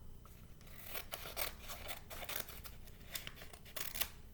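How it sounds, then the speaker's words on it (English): Scissors cut through paper in a string of quiet, crisp snips and slicing strokes, close by and otherwise alone. "I'm going to use my scissors to cut"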